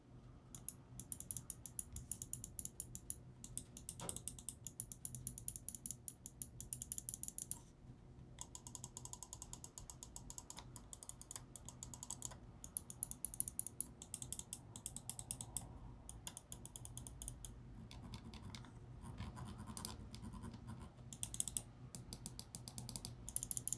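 ROCCAT Kain Aimo gaming mouse buttons clicking over and over in quick, uneven bursts for a long stretch, crisp and close, with no voices.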